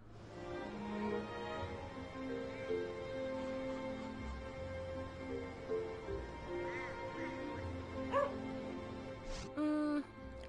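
A dog in the video game Gravity Rush 2 whimpers and gives short yips and soft barks over a steady game music bed, with brief louder bursts near the end.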